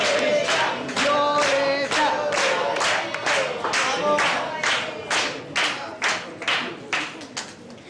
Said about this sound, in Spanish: Fuerte el aplauso ahora sí para Violeta.